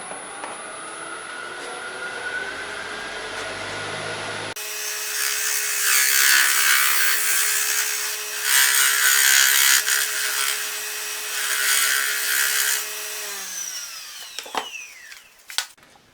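Square cutter shaping a deer antler bowl on a lathe, a loud steady grinding and scraping rasp over a constant motor whine, surging in waves, then the motor spinning down and stopping.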